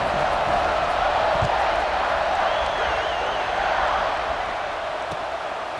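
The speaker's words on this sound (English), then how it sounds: "this crowd is buzzing after that last score" A stadium crowd in the EA Sports College Football 26 video game buzzes after a score, a dense, steady roar of cheering that holds loud and even throughout, with no distinct voices standing out.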